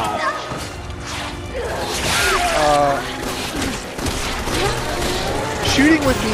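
Gunfire rattles in Resident Evil 6 in rapid bursts mixed with whooshes and impacts, while a player talks over the action.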